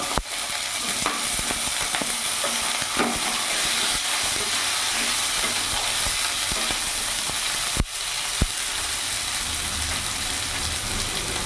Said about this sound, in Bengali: এরই মধ্যে কেটে রাখা আলুগুলো আমি দিয়ে দেবো।